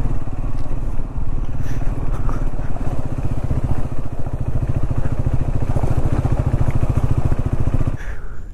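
A motorcycle engine thrums steadily as the bike climbs a rough mountain trail in Zanskar near a Buddhist sacred peak, a loud, close, pulsing mid-pitched drone with clattering over gravel that eases slightly near the end.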